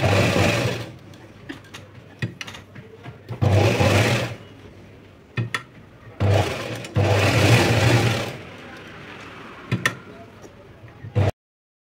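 A sewing machine stitches a katori blouse in bursts, several runs of rapid rattling of a second or two each, separated by pauses where a woman explains the steps.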